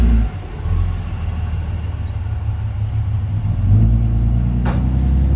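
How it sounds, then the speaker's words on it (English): Big diesel truck driving past close behind, a loud low engine rumble that builds and swells as it passes, with no talk over it. "excuse the big-ass diesel truck that's about to go right behind me"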